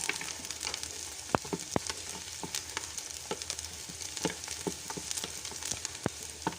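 Lemon, a cinnamon stick and spices sizzle in a hot pan for an Arabic chicken kabsa, a steady close crackle scattered with sharp pops, with no talking.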